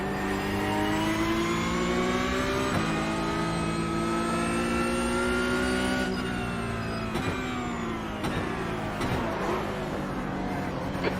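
Engine of a car in a racing video game, loud sustained whine climbing through the revs with abrupt shift drops and a few sharp clacks near the end, heard alone without speech.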